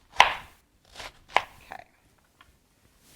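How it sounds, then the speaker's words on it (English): Three or four crisp knife chops on a cutting board cut food into bite-sized pieces for a vegan, oil-free meal. The chops are spaced unevenly and close by, and a voice speaks briefly. "So I'm just going to cut it in smaller bite-sized pieces."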